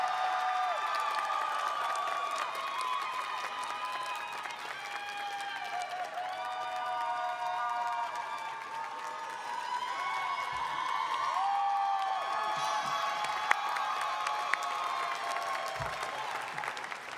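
A graduation ceremony audience applauds and cheers for a retiring teaching professor of political science, with steady, dense clapping and scattered whoops running throughout, broad and sustained from a large crowd.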